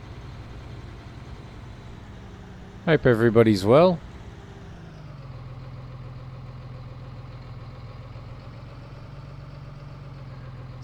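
A Claas tractor in Farming Simulator 19 idles with a steady, low mechanical engine drone, while someone talks briefly over it.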